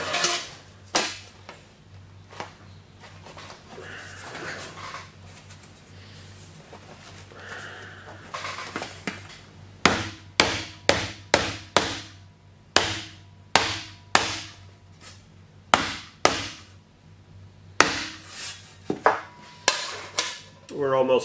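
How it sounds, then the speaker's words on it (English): Rubber hammer striking sheet metal laid on a shot bag, first a few scattered hits, then a steady run of sharp, loud metallic whacks roughly every half second, close by. "working with a rubber hammer and a shot bag"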